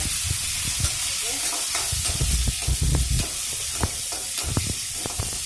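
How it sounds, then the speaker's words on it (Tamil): Turkey berries (sundakkai) sautéing in a pan for a village-style kuzhambu: a steady loud sizzle and hiss throughout, with scraping stirring strokes and soft clinks from a utensil against the pan. "இந்த சுண்டக்காவையும் நல்லா வதங்கட்டும்"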